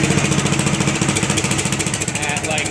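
A 1-ton roller's engine runs steadily nearby with the new hydraulic pump hooked up, a loud rapid chugging thrum with a rhythmic pulse, alone without talk.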